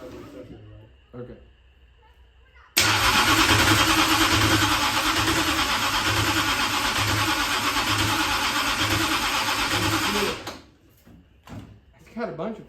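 A dirt track race engine is started: a sudden loud, raw roar bursts in and holds steady for several seconds before cutting off sharply. Quiet shuffling sounds come before and after it, and people talk nearby.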